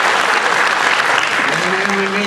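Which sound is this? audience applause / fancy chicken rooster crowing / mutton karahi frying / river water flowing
audience applause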